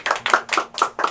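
Hand clapping during a tabletop roleplaying game session: about five sharp, evenly spaced claps in quick succession, close and fairly loud, with no talking.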